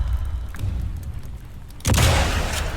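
Car engine blown up in the video game Sniper Elite 5, a sudden deep boom that rises out of a rumbling game soundscape and lingers as a loud, noisy roar.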